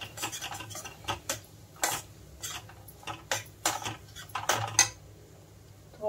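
A spoon scrapes and clinks against a pan while chana palak paneer masala is stirred and mixed, giving a run of sharp, irregular metallic taps and scrapes close by, with short quiet gaps between strokes.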